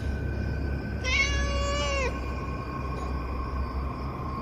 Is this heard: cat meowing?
yes